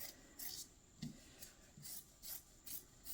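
Cushion fabric is cut across in quiet, rhythmic rasping strokes, roughly eight in a row, close by with no talk.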